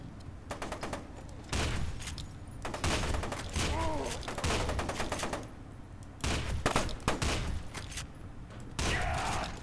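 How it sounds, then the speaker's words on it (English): Shotgun blasts in the first-person shooter game FEAR 2 come in loud, rapid bursts separated by short pauses, with weapon-handling clatter between the shots. "I'm shooting you with a shotgun"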